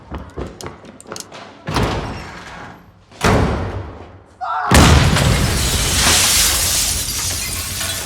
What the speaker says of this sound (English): When one threatens him, Tommy uses a grenade to kill him instantly.